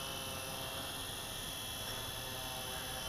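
Syma X25 Pro drone motors spinning up under throttle for takeoff, a dense continuous high whine and buzz, loud and close, steady for the whole stretch with no talking.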